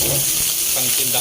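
Steady, loud sizzling hiss of chicken frying in hot oil in a pot for tinola, with faint clinks and a brief voice underneath.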